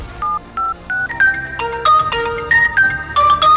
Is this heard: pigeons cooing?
no